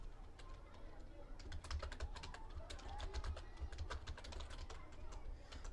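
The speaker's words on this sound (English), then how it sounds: "let me type that in again" Fingers type on a computer keyboard in bursts of quick, light keystroke clicks, fairly faint and close, with a low background hum throughout.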